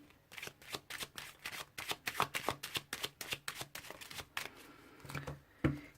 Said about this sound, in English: let me pull some Lenormand's cards to clarify the situation